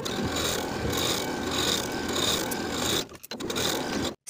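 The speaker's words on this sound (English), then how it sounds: "Sew each side seam with a 5/8 inch seam allowance and press the seams open." A sewing machine stitches the side seams of a blouse with a steady, close mechanical whir and a faint rhythmic pulse, briefly pausing and restarting before stopping abruptly.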